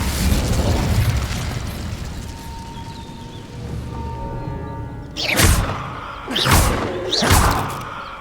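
Incendio fire spell cast in Hogwarts Legacy, heard as three sharp, loud blasts in quick succession following a stretch of lower rumbling background sound.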